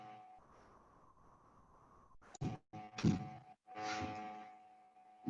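Muffled bumps and thumps of a microphone being handled, with a few sharper knocks and rustles between quieter stretches.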